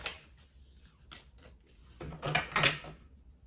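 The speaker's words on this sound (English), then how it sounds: "we're gonna get a few more shuffles" Tarot cards being shuffled by hand, soft papery riffles and rubbing sounds, quiet and close, with a louder burst of shuffling near the end and no talk.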